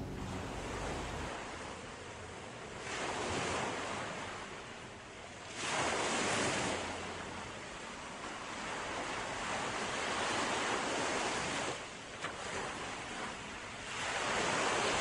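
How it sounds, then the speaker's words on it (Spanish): Sea waves break on the shore in slow, rolling surges, loud and near, swelling and receding every few seconds under steady wind noise. "Qué hermoso que es el mar."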